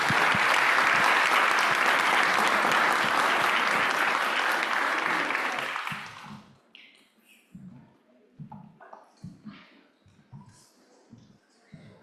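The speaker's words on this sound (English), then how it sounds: "join me in a round of applause for this terrific panel" An audience at a global health event gives a panel a loud, sustained round of applause for about six seconds, which then cuts off, leaving a few scattered taps and light room noises.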